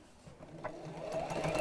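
Sewing machine running steadily as a seam is stitched on a fabric Easter basket project, a continuous whirring hum that grows slightly louder toward the end, with no talk over it.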